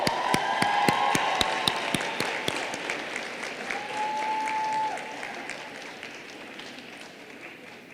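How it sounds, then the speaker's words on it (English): Applause rises from a crowd at a campus inauguration ceremony, with loud sharp claps standing out early and then thinning into a softer, steady patter that fades toward the end. "last round of applause"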